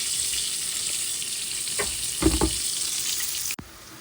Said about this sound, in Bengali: এখন এখানে হচ্ছে পেঁয়াজ মরিচটা তেলের ভিতরে ভেজে নিচ্ছি।